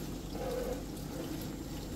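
A Beko dishwasher running and taking in water, a faint, steady hiss and trickle of flowing water with a low background hum throughout.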